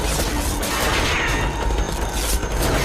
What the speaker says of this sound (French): Oui, j'entends des coups de feu!